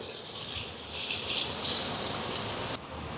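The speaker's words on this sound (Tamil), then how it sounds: "இப்போ தேங்காய் பால் சேர்ப்போம்" Coconut milk pours steadily into a pot of chicken curry, a continuous gurgling splash that swells in the middle and cuts off sharply near the end.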